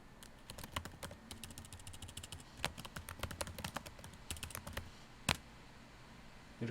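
Computer keyboard typing at close range, bursts of quick irregular key taps with short gaps and a louder single keystroke near the end, heard alone.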